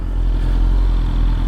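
Close, loud BMW S1000RR 2025 superbike with a full Akrapovic exhaust, its engine droning steadily with a low, rough rumble and mechanical clatter as the quickshifter works.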